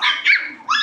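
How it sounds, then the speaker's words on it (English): Dogs near Da Lat, Vietnam, bark sharply at goats coming onto their land, three quick high yaps in under a second, nearby and clear without any speech. "Barking at the goats. Not happy with the goats coming onto their land."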